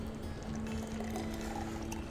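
A rum sunset drink pours from a container in a steady, continuous liquid stream, close and fairly quiet with no talking over it.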